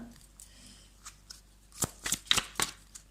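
Tarot cards shuffled and drawn: faint soft riffling early, then a handful of louder, sharp card slaps and flicks close by toward the end, with no talking.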